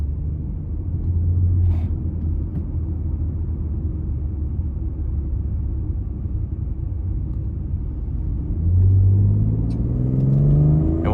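Turbocharged 2019 BMW X3 M40i engine pulling hard under acceleration, a steady low rumble from the cabin that climbs in rising revving sweeps toward the end, with no talking.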